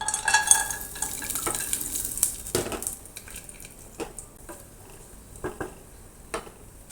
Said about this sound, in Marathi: तूप गरम झाल्यानंतर काजू बदामचे कुटके करून घेतलेले आहे ते टाकत आहे